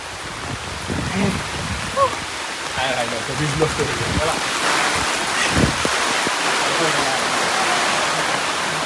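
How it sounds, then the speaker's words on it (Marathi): Heavy rain pours down steadily outdoors in rural Konkan, a dense, loud roar that builds and holds, with people talking and shouting over it early on. "लय जोरात पाऊस आला."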